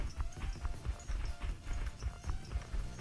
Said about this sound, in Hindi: घोड़ा गाड़ी लेके निकल ही रहे थे